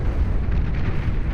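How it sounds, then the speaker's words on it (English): Dense, continuous rumble of cannon blasts and explosions from a large real-time strategy battle in Beyond All Reason, where a D-gun-style nose cannon fires on shield generators; loud and sustained, with overlapping booms and no clear gaps. "Blasting down with their pseudo D-gun cannon, their little stub-nose schnozzle cannon mounted on their front"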